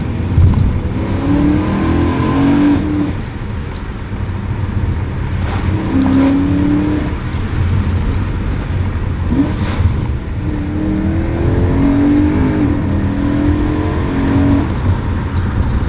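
A BMW M3 E92 accelerates hard from inside the cabin, its engine roaring up through the revs in repeated surges broken by quick, abrupt gear shifts, loud and close with no talk.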